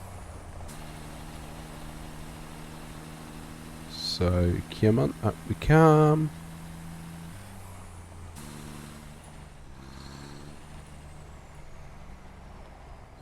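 A truck in Satisfactory drives with a steady low engine drone, marked by hissing air brakes and a burst of revving mid-clip, while someone talks briefly over it.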